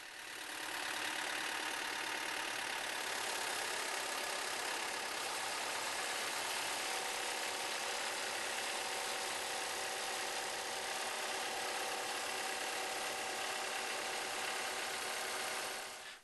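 A Vermeer rubber-tire hydrostatic trencher engine idles steadily and evenly at a moderate distance while the machine is loaded onto a transport trailer. No one speaks.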